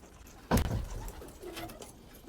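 A Syrian fleet pigeon gives a short, loud coo up close, followed by softer rumbling coos and faint background stirring.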